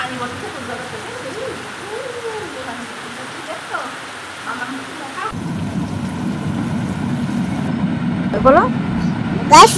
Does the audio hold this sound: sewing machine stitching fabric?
no